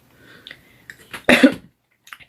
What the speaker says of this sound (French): La toux, c'est la période.